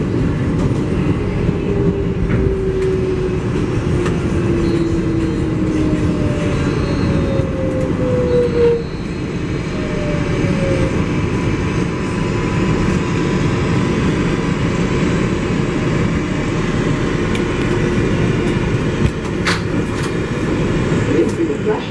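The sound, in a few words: MTA 7 local subway train running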